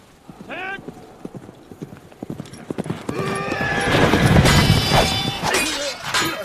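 A horse's hooves clip-clop in a steady run of hard knocks, mixed with whinnying, crashing and shouted voices in a medieval battle scene set around the fight for Jerusalem, growing louder and busier toward the end.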